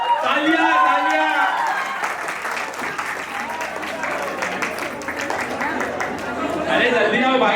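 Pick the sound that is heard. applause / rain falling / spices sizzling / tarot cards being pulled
applause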